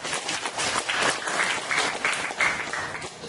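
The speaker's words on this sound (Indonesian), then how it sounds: "Tepuk tangan buat Bali dulu" Audience at an energy product presentation applauds in a brief, dense burst of clapping that holds steady throughout, with faint voices mixed in.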